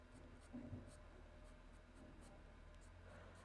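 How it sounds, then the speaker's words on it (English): A carbon pencil drawing fine strokes on textured art paper, with quiet, close scratching in short repeated bursts over a low background hum. "This carbon pencil works really nice on this paper."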